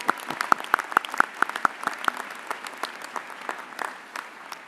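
Applause from the audience at a graduate commencement ceremony, a steady crowd of hands clapping with sharp individual claps standing out early before settling into a denser, fading patter.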